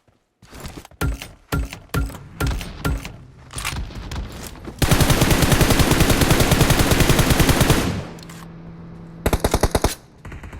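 Gunfire in PUBG Mobile with an RPG-7 heavy weapon: scattered single shots, then a sustained rapid automatic burst lasting about three seconds, followed by a quieter pause and a final short volley, loud and close.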